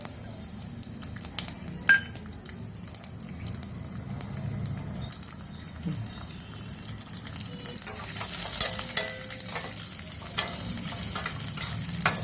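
Ingredients for an Andhra-style cabbage chutney frying in reused reddish oil in a pan, a continuous low sizzle with occasional stirring and light clinks, growing busier and brighter toward the end, no talking.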